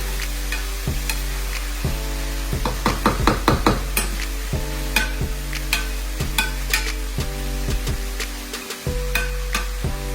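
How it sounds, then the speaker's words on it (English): Cornbread dressing mixture cooking in olive oil, with a steady sizzle and repeated stirring scrapes in the pan, loudest around the middle and carrying on throughout with no talking. "We're gonna let that simmer for a couple minutes."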